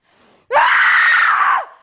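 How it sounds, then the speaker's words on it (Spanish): A voice actor lets out a single powerful open-mouthed scream of rage that lasts about a second, loud and close, after a faint intake of breath. "Y para hacer un grito de rabia más potente, Peldon debe abrir la boca por completo."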